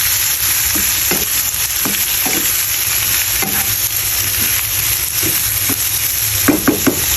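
Onion and chicken gizzards sautéing in a hot pan, a loud steady sizzle broken by occasional scraping stirs of a utensil, close and continuous with no talking.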